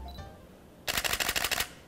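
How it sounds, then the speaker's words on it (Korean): Rapid burst of crisp mechanical shutter clicks from a Canon EOS 70D camera, about seven or eight close, evenly spaced snaps in under a second, following quiet room tone. "먼저 70D인데요. 셔터 소리 한번 잘 들어보시죠."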